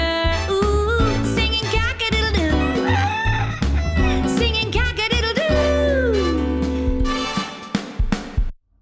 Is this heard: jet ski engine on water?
no